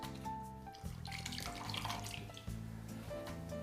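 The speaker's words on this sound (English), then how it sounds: "We fill this up again. Water, clean water" Clean water running steadily into a container for a homemade mineralized blue-green algae drink, a continuous close splashing pour with no talk over it.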